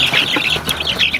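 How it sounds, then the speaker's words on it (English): Chickens clucking in a backyard grow-out pen, a steady close chorus of short clucks and chatter with no voices. "The one-winged chicken."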